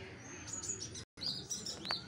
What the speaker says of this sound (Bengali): ওই দেখো পাখিগুলো ডাকছে।